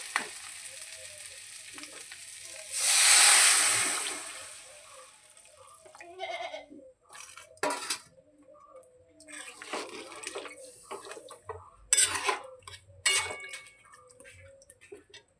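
Water poured into a hot pot of sizzling potatoes for a fish sour curry gives a loud hissing gush lasting about a second, followed by scattered clinks and scrapes of a utensil against the pot.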